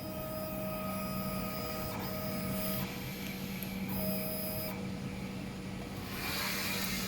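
A DTF printer with an Epson i3200/4720 head runs a nozzle check on PET film. Its quiet, steady mechanical whir carries a thin motor whine, with brief shifts as the carriage moves.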